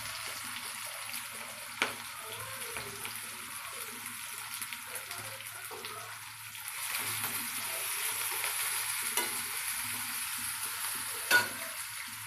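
Garlic paste, green chilli and thinly sliced cabbage frying for noodles, a steady low hiss with faint crackling, occasional spoon knocks and a louder sizzle surge midway.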